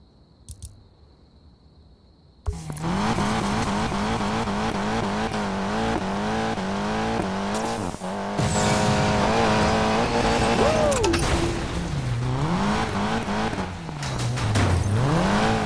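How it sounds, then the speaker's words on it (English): An off-road car in Need for Speed Payback roars up to speed, engine loud and continuous with rising and falling revs, tire noise and a dip where it leaves a ramp before the engine picks up again. "Using an off-road car, drive off the ramp to hopefully grab the chip."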